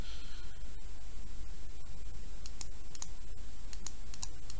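Several sharp, light clicks from a computer mouse or keys, close up and clustered mostly toward the end, over a constant hiss of background static.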